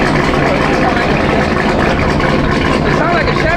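Supercharged Jeep Trackhawk with a full Corsa exhaust and high-flow cats idling nearby, a loud, steady low rumble with a dense throbbing pulse, while people talk over it.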